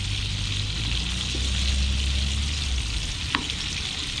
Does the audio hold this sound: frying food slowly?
yes